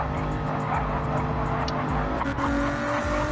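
In a Gran Turismo-style GR3 racing game, a race car brakes too late into a corner. A steady engine drone runs under a short burst of tire squeal and skidding, with no voices.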